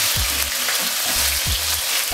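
Garlic frying in a pan for a chicken stir fry gives off a loud, steady, close sizzle, with a few low scraping knocks of a utensil stirring it.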